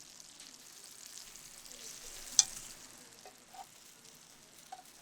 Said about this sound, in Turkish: Orta ateşte 2 dakika kızartın.